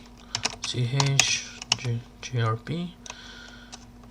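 Keys clatter in quick irregular bursts as a Linux command is typed on a computer keyboard, loud and close, with a voice speaking briefly over the clicks.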